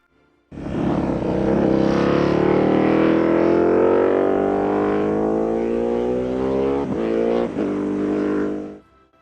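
Honda RC211V V5 four-stroke MotoGP racing engine, loud and close, screaming steadily upward in pitch for several seconds, with a couple of brief dips like quick gear changes near the end before cutting off. No voices.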